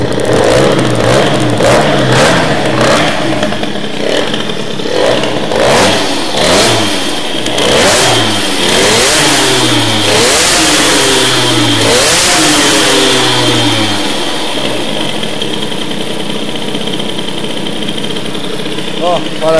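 A car engine fitted with an Airsal Fox boost cylinder head, loud and close, revving in repeated rising and falling bursts before settling into a rough, steady idle, with someone speaking over it.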